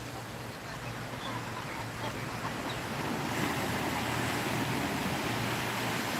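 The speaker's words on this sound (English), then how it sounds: "There it comes. A big offshore" A big offshore outboard go-fast powerboat passes over open water, its engine roar building as a broad steady rush mixed with waves and wind buffeting the microphone.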